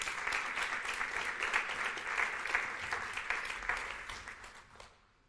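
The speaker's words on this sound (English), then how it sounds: "Big applause, please." An audience at a sustainability conference closing ceremony applauds, a dense, steady wash of clapping that holds for several seconds and then fades out.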